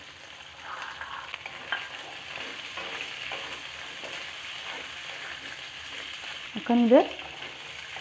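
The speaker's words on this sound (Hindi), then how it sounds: "लाल हो तक भूज लेबै आलू के मटर के" Boiled potatoes and green peas frying in a pan for aloo matar, a steady sizzle throughout with occasional stirring scrapes and a brief louder clatter near the end, with a few quiet spoken words.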